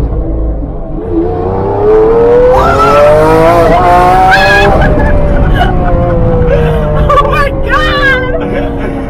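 A Lamborghini Aventador's engine revs loud and close as the car accelerates through rising gears in Miami Beach, the harmonic whine climbing, dipping on shifts and climbing again, with people talking over it.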